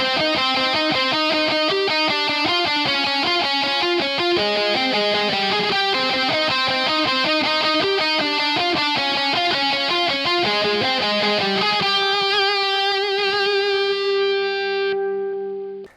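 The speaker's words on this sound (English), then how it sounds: "the way this guitar tone is set up, it's a little bit different than most metal guitar tones" A distorted metal electric guitar tone played through a Marshall DSL20H amp with a Torpedo Captor X rings out in fast, loud, harmonically rich riffing that ends on a sustained ringing chord before cutting off.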